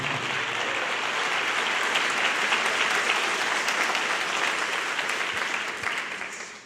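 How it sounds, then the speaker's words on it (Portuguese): A church congregation at a Lenten sermon bursts into sustained, dense applause that fills the hall evenly, then starts to fade toward the end. "Pode aplaudir porque conseguimos chegar no final."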